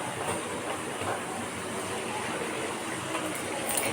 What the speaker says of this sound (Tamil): காஞ்சோடனே போட்ட உடனே இதில் நல்லா பொரிஞ்சு வந்துடும்